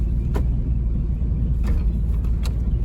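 A scrap hauler truck's engine rumbles low and steady, lugging close to a stall as a kid works the clutch, with a few faint knocks over the continuous drone.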